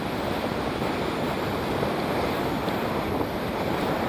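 Roaring wind noise buffeting the microphone of Ray-Ban Meta smart glasses on a road cyclist riding fast at about 60 km/h, a loud, constant broadband rush with no voices.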